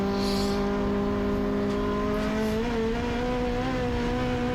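A race car engine drones steadily at high revs up close on the Mosport track, pitch dipping slightly midway, with faint tire noise.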